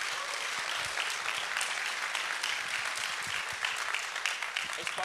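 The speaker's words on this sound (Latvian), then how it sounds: "ar jūsu aplausiem Valmieras novada pašvaldības domas priekšsēdētājs Jānis Baiks" Dense, steady applause from an audience at the opening of an entrepreneurship event in Latvia, greeting a municipal council chairman. The clapping stays loud and even for the whole stretch, with faint voices mixed in underneath.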